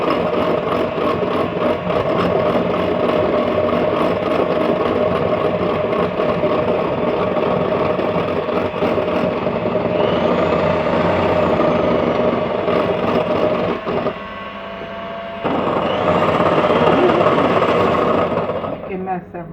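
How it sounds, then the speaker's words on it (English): Dalgona coffee whisked until foamy, probably with an electric whisk, giving a loud, steady motorized whir close by that drops briefly, then resumes near the end. "So I'm gonna whisk it more."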